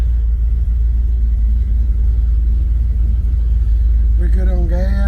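A Chevy C10 truck engine idles alone, a loud, steady low rumble that runs throughout, with a brief higher tonal sound near the end.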